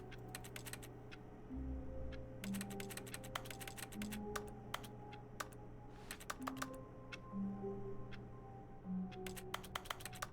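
Rapid clicking keyboard typing in The Stanley Parable comes in fast bursts with short pauses over a low steady hum and faint tonal game sounds, close and clear.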